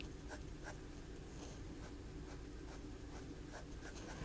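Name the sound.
fountain pen nib writing on paper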